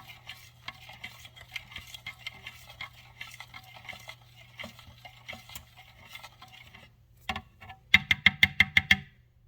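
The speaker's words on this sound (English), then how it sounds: "we're gonna go ahead and give it a stir here just to mix it all up" A utensil stirs an Asian noodle pasta salad in a bowl, with soft scraping and tapping throughout, then a sharper run of rapid, rhythmic clinks near the end.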